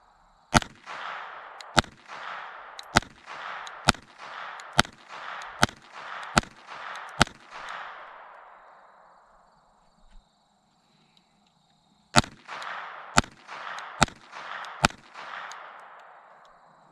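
Rifle shots from a GSG rifle firing Remington ammunition outdoors at a target, a rapid string of about eight sharp cracks, then a pause of several seconds and a second string of about five more shots, loud and close.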